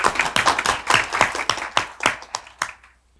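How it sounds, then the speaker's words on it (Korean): An audience claps to welcome a professor to the stage at an institute's anniversary event, with a short burst of fairly loud, uneven hand claps that thins out and fades within about three seconds. "큰 박수로 모시겠습니다"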